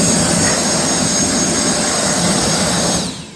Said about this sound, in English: I'm gonna take my little blower here.